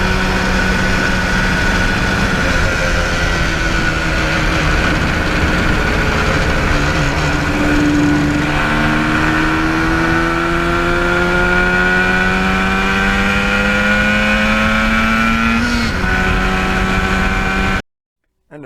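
A 1977 Yamaha RD400 two-stroke motorcycle engine runs loudly and steadily up close with a buzzing, rattling drone, rising in pitch partway through before cutting off near the end.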